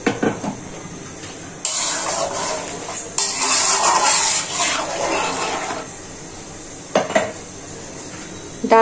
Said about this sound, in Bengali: এখন আমি এই ডিশটা ধুয়ে হালকা একটু পানি দেব